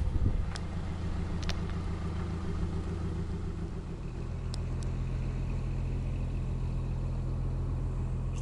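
Full passenger car driving along a road on a long trip, a steady low engine and road rumble heard from inside the cabin, constant and fairly loud, with a few faint clicks and no talk.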